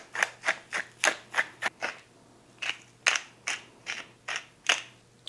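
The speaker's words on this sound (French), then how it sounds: "mettez une bonne quantité généreuse de poivre au moulin" Pepper mill grinding a generous amount of pepper, a series of sharp crunching twists in a steady rhythm, about a dozen close, crisp bursts with short gaps.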